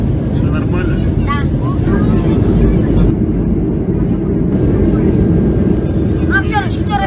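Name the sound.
airplane cabin noise just after takeoff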